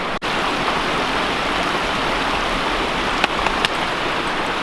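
Heavy rain and water running everywhere along a forest hiking trail, a dense, loud, steady wash of falling and flowing water with a few faint clicks, without voices.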